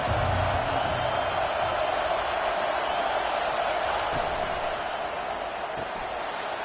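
Football stadium crowd noise in a loud home venue, a constant, dense roar that holds steady and eases slightly toward the end.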